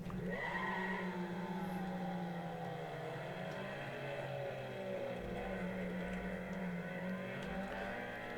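Steady game-engine drone from cars in a streamed racing video game, several engine tones rising and shifting together at a constant loud level throughout, no talking.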